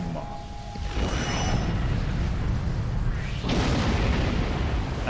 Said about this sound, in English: Use the big torpedo!